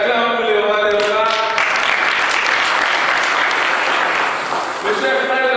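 A church congregation breaks into loud, sustained applause and cheering, with a speaking voice heard over it at the start and again near the end.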